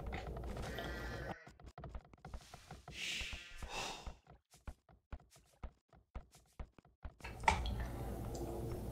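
Video game sheep in a Nomad Battleground match bleat in short bursts amid a stream of rapid clicks and game effects, fairly quiet under the game mix.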